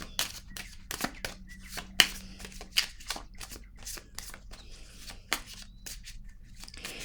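Tarot cards handled during a reading: quiet, scattered flicks, slides and shuffling snaps in an irregular rhythm, close and soft, with faint room tone between them.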